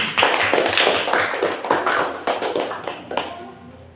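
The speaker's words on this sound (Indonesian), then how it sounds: "Tepuk tangan untuk kelompok 4." A classroom group applauds a presenting group, a dense burst of many hands clapping loudly for about three seconds before quickly tapering off.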